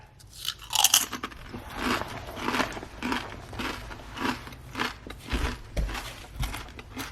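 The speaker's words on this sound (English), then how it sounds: "I love the crunch from the potato chip" Zapps potato chips and a honey mustard pretzel stick being bitten and chewed up close, giving a steady run of loud, dry crunches in a repeated chewing rhythm with no talking.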